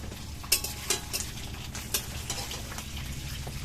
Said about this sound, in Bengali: একটা পিঠ হয়েছে, আর একটা পিঠ উল্টিয়ে দেবো।